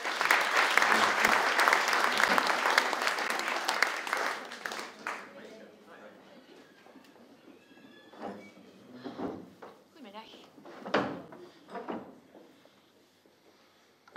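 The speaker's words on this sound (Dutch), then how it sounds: "Maak een hartelijk applaus voor Jessica de Bel." Audience applause at a political café show swells loudly for about five seconds, then fades away, leaving scattered knocks and people talking nearby.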